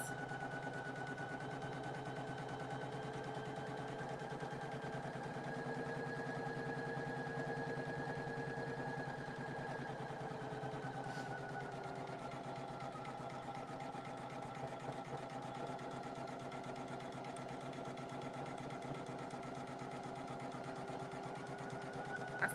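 A Poolin single-needle embroidery machine stitches out lettering with a steady, quiet motor whir and a faint, rapid stitching pulse that continues unbroken.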